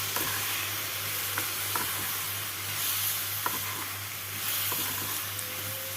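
Tomato chutney seasoned with salt and turmeric cooks in a pan with a soft, steady sizzle and faint scraping stirs, quiet and continuous, with a low background hum.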